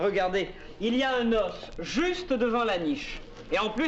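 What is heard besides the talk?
No everyday noise stands out behind the speech.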